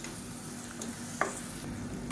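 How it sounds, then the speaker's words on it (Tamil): A roasted gram and tomato paste sizzles softly as it sautés in hot oil, giving a steady low frying hiss with one brief clink partway through. "சேர்த்துட்டு நல்லா வதக்கி விட்டுக்கலாம்"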